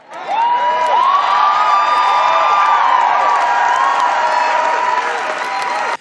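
A large crowd at a political rally cheers and applauds loudly and continuously, with whoops and shouts rising over the sustained clapping.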